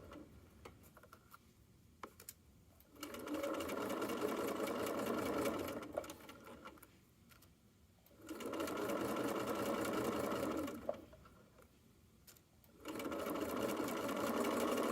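A sewing machine stitches a fanny pack's top panel to its zipper in three steady runs with short pauses between, with the rhythmic mechanical chatter close and clear and no talk.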